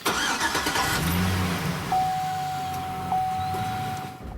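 A car engine cranks and catches, rumbling loudly at first, then a steady high whine holds as the motor settles into running.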